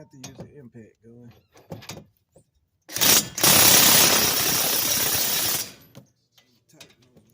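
Ratchet tightening the front brake bolts on a Ford Escape during a pad and rotor replacement: a loud, sustained mechanical burst of about two and a half seconds, with someone talking before and after it.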